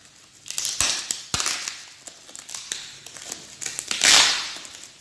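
A Kodak 3110 tripod box being unpacked with cellophane tape ripped and peeled off in sharp, irregular tearing and crinkling bursts, with a longer loud rip near the end, close and clear.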